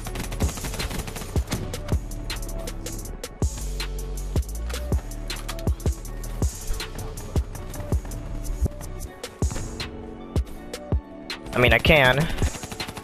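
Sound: gunfire from the Kuda submachine gun in video game Black Ops 3

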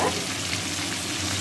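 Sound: chicken frying in a pan

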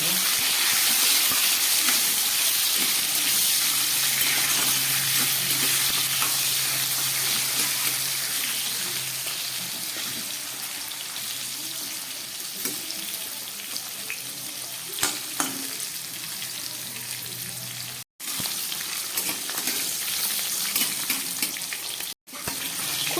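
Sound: potatoes and pointed gourd frying in oil

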